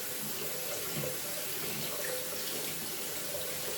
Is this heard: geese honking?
no